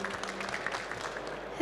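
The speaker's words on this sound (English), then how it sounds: "We can applaud you." Audience applause following a conference presentation on AI in influence campaigns, a short burst of steady clapping from a room of listeners, moderately loud and continuous without voices over it.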